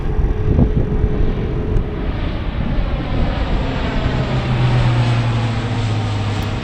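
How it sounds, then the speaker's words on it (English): Two military aircraft pass overhead near a Nantucket beach, a loud, steady engine roar filling the scene, with wind buffeting the microphone throughout. "As I got to the beach, 2 military aircraft were heading overhead."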